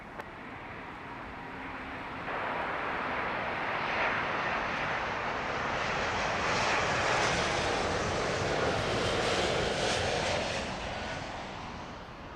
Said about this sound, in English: British Airways flight 264, this one coming in from San Diego